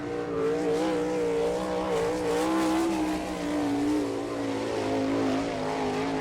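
Harrison Trucking race car number 22 on a qualifying lap at the All Star Circuit of Champions event at Attica, Ohio, in 2001. A loud, steady engine drone holds at high revs for the whole stretch, with its pitch rising and falling slightly as the car circles the track.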